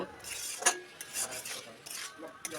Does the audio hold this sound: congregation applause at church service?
no